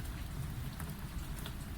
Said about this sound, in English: sink into a comfortable silence watching the rain